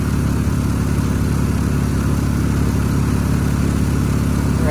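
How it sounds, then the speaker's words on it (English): A Toyota Camry 3.0 V6 idles steadily with its AC compressor running during a refrigerant recharge, giving a continuous low engine drone with a faint rhythmic pulse, close and constant throughout, with no talking. "Compressor kicks on."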